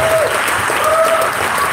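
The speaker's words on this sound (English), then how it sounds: "So if you could also give a warm applause to all those." An audience at an entrepreneur and investor gathering claps warmly, a dense, steady burst of applause that fills the room, with a few voices faintly mixed in.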